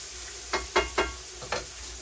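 Yucca flower pods cook down in a pan, giving a faint steady sizzle broken by four short scraping or stirring strokes spaced about a quarter-second apart, with no voices.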